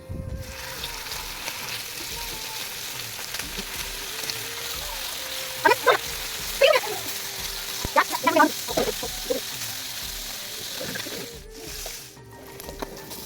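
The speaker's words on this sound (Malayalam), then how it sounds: "എണ്ണ ഒഴിച്ചിട്ട് ഓരോ കറിവേപ്പില തണ്ടിട്ട് ഓരോ മീനും അതിലേക്ക് വെച്ച് കൊടുക്കാം." Fish frying in hot oil with curry leaves in a pan: a steady, close sizzling hiss throughout, broken by a few sharper pops and crackles.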